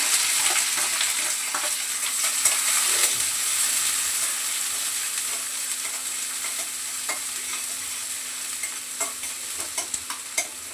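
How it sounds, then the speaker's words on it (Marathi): Onion sautéing in hot oil in a pan, a loud steady sizzle with bursts of spatula stirring and scraping throughout, no talking. "कांदा परतून घेते"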